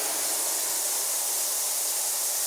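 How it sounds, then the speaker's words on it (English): An ultrasonic cleaning tank running at about 30,000 cycles per second, its resonant transducers vibrating the tank bottom and giving off a steady, even hiss with no breaks, alone and without any voices. "What you're hearing there is the resonant transducers and the mechanical vibration that's going on."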